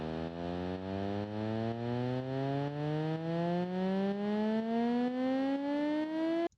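A sampled EDM riser sweeps steadily upward in pitch, a loud buzzy tone with stacked harmonics climbing for about six and a half seconds before cutting off abruptly.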